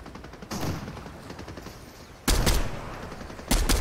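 Gunfire in Fortnite, three loud bursts of rapid shots separated by pauses, over a steady background of game noise.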